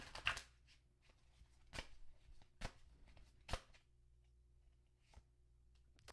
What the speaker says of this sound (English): I do want to shuffle again to pick the fears out.